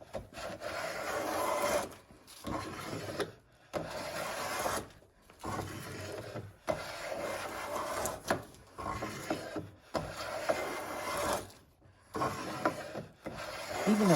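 A hand plane takes shavings off a board clamped in a vise, repeated rasping strokes of about a second or two each separated by short pauses, close and fairly loud.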